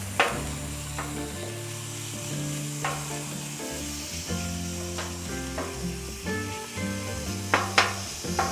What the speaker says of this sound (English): Give it a chop up with the dough scraper here.